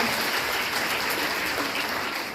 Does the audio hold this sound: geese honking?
no